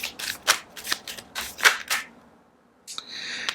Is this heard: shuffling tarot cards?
yes